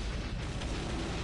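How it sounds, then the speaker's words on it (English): Heavy rumbling explosions from a Godzilla video game, a loud continuous low boom with no separate blasts. "Alright, explosions."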